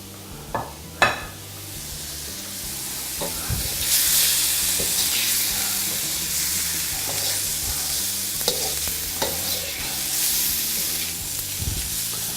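Parsley and green onions sizzle on a hibachi griddle with a bright, steady hiss, while occasional metal scrapes and taps from the spatula cut through near the start and later on.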